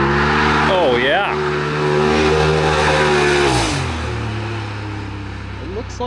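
Turbo R side-by-side fitted with a big intercooler and new exhaust, its engine revving hard and loud with rising and falling pitch as it accelerates away, fading slightly toward the end.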